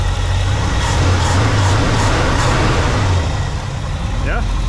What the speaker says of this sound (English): Yeah, we can rev it.